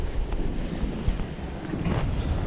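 Strong gusting wind at sea on a small fishing boat after a storm, buffeting the microphone in loud, uneven rushes, alone and close.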